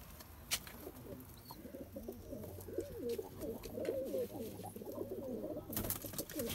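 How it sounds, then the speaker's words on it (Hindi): Pet pigeons cooing on a rooftop, a soft rolling chorus of coos at close range that swells in the middle and continues over low background noise. "ऐसे ही शौक के लिए कबूतर रखे हैं इन्होंने"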